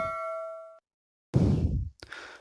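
A single bright notification bell dings and rings out for under a second, followed by silence and then two short bursts of louder, noisier sound.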